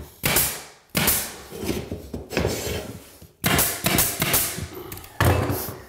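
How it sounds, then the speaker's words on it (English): Surface nailing engineered hardwood flooring during an installation, heard as several loud, close impacts spaced a second or two apart, each followed by a short ringing decay. "and we're surface nailing."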